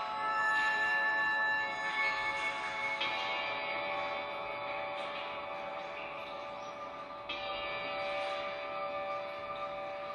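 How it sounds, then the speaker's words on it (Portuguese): A sustained, shimmering metallic Tibetan bell tone rings and swells, with lingering overtones that fade and re-strike, resonating steadily without any voices. "os sons do sino tibetano agora ecoam no seu paladar"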